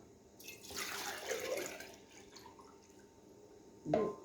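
Water is poured into an old Soviet-era one-litre glass jar for pickling cucumbers, a steady splashing pour that rises and fades, followed by a brief louder splash near the end, with no talking.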